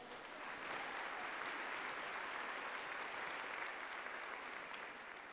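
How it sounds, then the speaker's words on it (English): Audience at a horse show demo giving a round of applause, with steady dense clapping from a crowd that holds evenly for several seconds at a moderate distance, with no voices. "Give us a round of applause."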